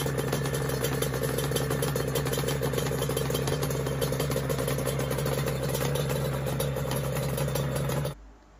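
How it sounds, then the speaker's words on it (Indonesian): A two-stroke motorcycle engine idles steadily and loudly for about eight seconds, its uneven rattling putter running continuously with no talk before it cuts off abruptly. "Mesin yang ciri khasnya itu punya suara yang seperti ini nih."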